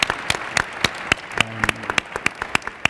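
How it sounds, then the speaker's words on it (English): An audience at a presentation about the 11th Street Bridge Park gives brief applause: sparse, scattered individual claps at an uneven rhythm, moderately close, with no speech. "I'd like to clap for you just for accomplishing that one"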